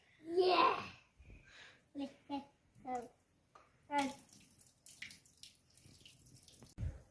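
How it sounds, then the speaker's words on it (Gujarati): Water splashes in intermittent bursts as a boy washes his younger brother's hands and feet, with children's voices talking between the splashes. "મોટા ભાઈ નાના ભાઈ ને હાથ પગ ધોઈ છે."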